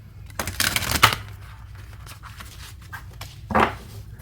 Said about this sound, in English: All right, let me give it a good shuffle.